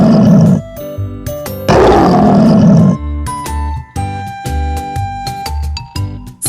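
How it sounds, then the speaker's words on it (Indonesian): Several bursts of a big cat's roar, presented as a lion among wild animals, come loud and close in short sections, broken up by chiming, tinkling music cues between them. "singa,"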